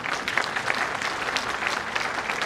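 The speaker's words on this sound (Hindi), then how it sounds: "उल्लासपूर्ण तालियों से" A crowd claps steadily in warm, continuous applause at a railway award function, dense and even throughout.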